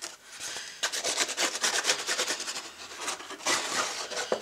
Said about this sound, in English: ink the edges with my black ink pad